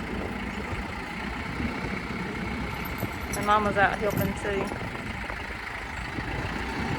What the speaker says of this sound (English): we're having to use the tractor to lift this heavy satellite dish pole up